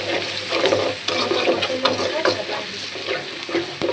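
Water poured into spice paste frying in a pan, ginger-garlic paste and salt, for a pangas fish bhuna, bringing a close, steady sizzle with stirring scrapes and bubbling throughout.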